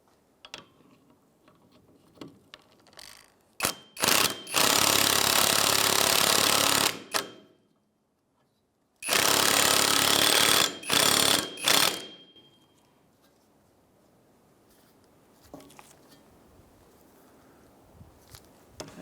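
A hub puller tool is driven by a power tool to press the rear wheel hub and bearing into place on a 2003-2011 Honda Element: two loud, sustained hammering bursts of several seconds each, plus shorter bursts, between quiet stretches with faint clinks.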